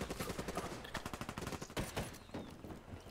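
Rapid bursts of gunfire from a weapon in a shooter video game crackle in quick, uneven volleys, fairly quiet and with no talking.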